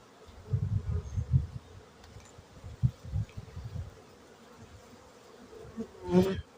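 Honey bees buzz around their hives during preparation for wintering, with close, fluttering bursts of buzzing that swell and fade, plus a sharper rising whine near the end.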